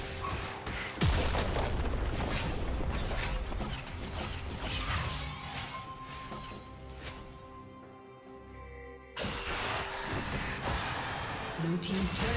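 A League of Legends turret is destroyed with a heavy crashing boom, mixed among dense in-game combat effects and impacts, followed by a short lull and then more clashing action.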